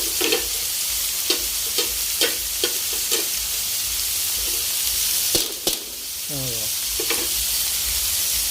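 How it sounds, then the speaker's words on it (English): Pork frying with garlic and ginger in a pan, giving a steady sizzle throughout, with a utensil stirring and scraping in repeated clacks and a brief squeak near the end. "And stir a few times."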